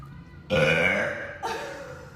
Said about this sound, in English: I'm sorry that the burp wasn't that great